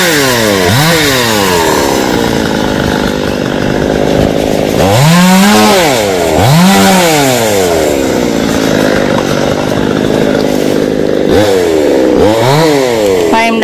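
Chainsaw cutting a long xà cừ tree branch reaching over power lines, engine revving up and down in repeated surges with high whining sweeps between steady loud buzzing, close and dominant, no talk.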